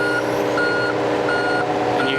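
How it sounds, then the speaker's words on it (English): A John Deere 30P mini excavator's reversing alarm beeps steadily in repeated tones, loud and close, over the constant drone of its running engine. "And you hear that beeper going on right there."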